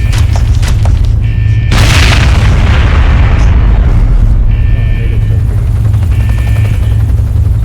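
Fuel tanks exploding in the Gears of War 2 video game: a loud, sustained explosive boom erupts and rumbles on over heavy low-frequency game noise, with brief tonal effects around it.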